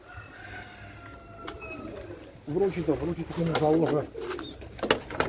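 A racing pigeon in a loft coos in a low, wavering rolling call for a couple of seconds, close by, while someone talks over it before and after.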